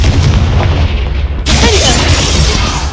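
A Confringo fire spell explodes in Hogwarts Legacy, a loud booming blast that bursts in midway through and rumbles on at high level, with game sounds continuing beneath.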